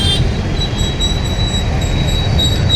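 Metro train at Lissie metro station in Ernakulam, a steady rolling rumble of the rail cars with a thin high squeal running through, continuous and fairly loud, with no talking.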